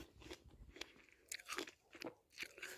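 Crisp bites and crunchy chewing of a fresh apple picked in a Thai orchard, several sharp crunches spread unevenly across the moment, close and fairly quiet with no talking.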